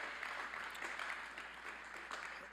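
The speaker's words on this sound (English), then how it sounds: "Let's give them a big round of applause." A round of applause at a university spring commencement ceremony, steady clapping from an audience held at an even, fairly distant level throughout.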